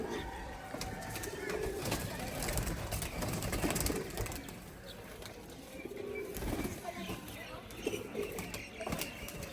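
Pigeons coo amid a busy outdoor rooftop scene while a net is being laid to catch them, with a steady wash of background noise and occasional voices throughout.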